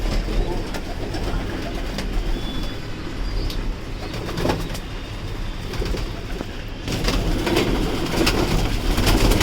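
Young racing pigeons coo and murmur nearby on a rainy day, with soft repeated calls over a steady background hiss and occasional light knocks.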